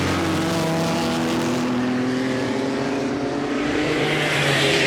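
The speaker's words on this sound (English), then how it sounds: "6-cylinder Maserati of Danaher now going to close in on Julian Majoub." Six-cylinder Maserati 6CM race car at a Goodwood members' racing meeting, a loud, continuous high-revving engine howl with shifting pitch, close and steady throughout.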